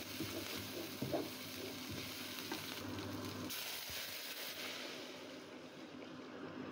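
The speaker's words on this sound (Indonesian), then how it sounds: "Saya tumis bersamaan dengan bumbu yang sudah dihaluskan" Ground spice paste sautéing in a pan with cinnamon, cloves, galangal and bay leaves for quail egg semur, giving a steady, fairly loud sizzle and frying hiss with occasional stirring scrapes, no voices.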